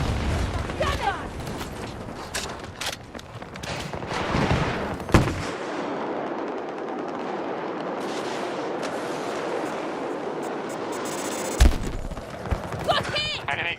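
Gunfire crackles through a Battlefield match: rapid rifle bursts and heavy booming shots, close and loud, with a calmer stretch in the middle and a sharp blast near the end, while voices talk over the action.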